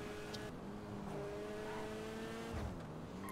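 A car engine in Grand Theft Auto revs and drones with rising, shifting pitch, heard steadily and fairly faint throughout.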